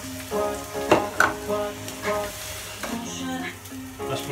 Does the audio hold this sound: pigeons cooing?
no